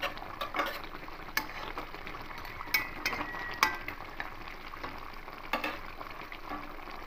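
Green and red chillies hitting hot oil in a pan while cooking a fish curry, giving a steady close sizzle broken by scattered stirring clicks and taps of a utensil against the pan, with no talking.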